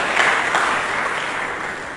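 A church congregation applauding during a sermon, a dense steady wash of many hands clapping together, loud and sustained without pause.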